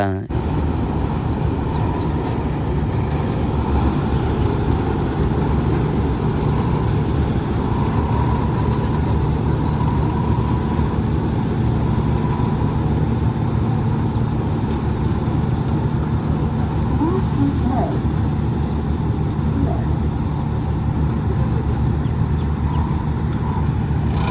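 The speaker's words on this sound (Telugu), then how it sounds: "ఇక్కడ ఫోర్ వీలర్ స్టార్ట్ అయింది" A four-wheeler's engine runs at a steady idle just after starting, a constant low rumbling drone that stays close and unchanging throughout, with faint voices in the background.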